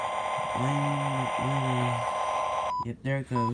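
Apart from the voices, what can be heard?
LionChief toy train remote beeping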